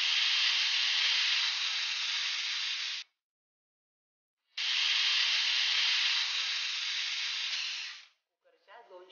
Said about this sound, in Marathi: कुकरच्या 2 शिट्ट्या झाल्या आहेत।